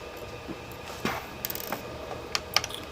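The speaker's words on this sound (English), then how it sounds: "You see I just dropped that screw there." A small screw from a Sony Vaio laptop being disassembled drops and clicks several times on a hard surface, short bright ticks spread over a quiet room hum.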